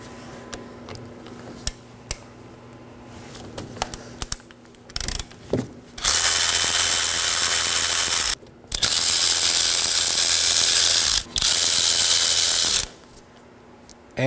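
A ratchet loosens the 14mm brake caliper slider pin bolts on a 2018-2024 Chevrolet Equinox, first a few scattered clicks, then several long, loud bursts of rapid ratcheting separated by brief pauses.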